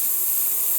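HiBrew H10A espresso machine with a single-hole steam tip releasing steam, a loud, close, steady hiss throughout.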